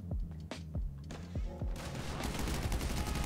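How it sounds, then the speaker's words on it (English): Gunfire in GTA V: several sharp, separate shots ring out close by, then give way to a dense, continuous burst of rapid fire that fills the rest of the moment. "Why the gunfire?"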